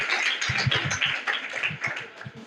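Students in a school classroom applaud together, a dense patter of hand claps that runs throughout at moderate loudness, with louder individual claps standing out.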